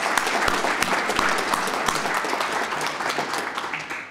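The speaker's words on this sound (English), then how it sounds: "let's give Dr. Keenum a round of applause" An audience at a university library lecture series event gives a university president a steady, full round of applause, dense clapping filling the room and tapering slightly toward the end.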